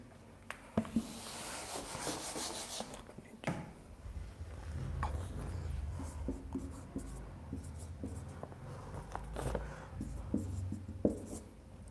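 A pen scratches across paper in quick, continuous strokes with brief pauses and occasional page rustles, close and clear, with no one speaking.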